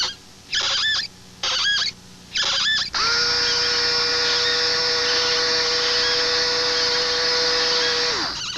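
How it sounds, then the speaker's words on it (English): A Skil Twist cordless power screwdriver whirs in three short bursts, then runs steadily for about five seconds with a high, clean motor whine before stopping. No one speaks. "The Skill Twist cordless power screwdriver."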